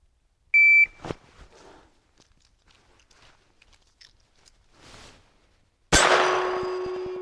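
A shot timer's sharp electronic beep starts things off. After some quiet handling sounds, a single loud pistol shot of CCI Standard Velocity ammunition follows during a LifeCard pistol fast-draw run, ringing on with a long tail.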